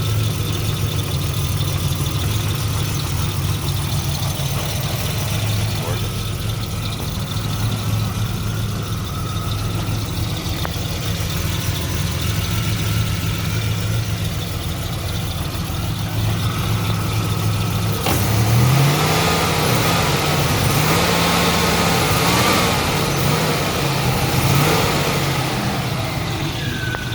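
A 1987 Buick Regal Grand National turbo engine with low original mileage idles steadily and close up with a low, even rumble, then rises in a few revs near the end, with no voices.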